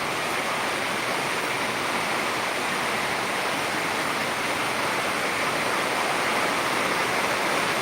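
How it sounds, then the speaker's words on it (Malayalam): A dense, steady roar of heavy rain pours continuously in Peringottukara, Thrissur, broadband and unbroken, with no voices over it. "കൂടിക്കൊണ്ട് തന്നെയാണ് ഇരിക്കുന്നത് മഴ"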